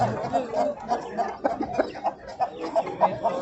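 A Ko'ktoy rooster at the Xoldevonbek rooster market clucks in a quick, steady series of short notes against a busy crowd murmur.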